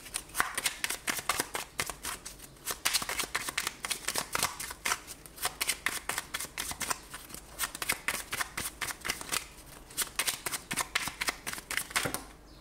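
Fairy oracle cards are shuffled by hand in fast, crisp bursts of papery riffling and slapping, a dense run of close flicks that pause briefly and resume, with no talking.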